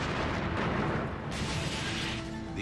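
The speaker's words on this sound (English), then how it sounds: "the air is shattered by a massive explosion" Massive bomb blast outside the American embassy in Nairobi, Kenya, heard as a dense, roaring wall of noise that stays loud and broad throughout, with no talking.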